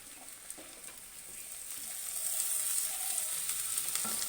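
Cut potatoes drop into a pan of hot oil and frying swells from a faint hiss to a fuller, steady sizzle, with a few light utensil taps, fairly quiet and without talk.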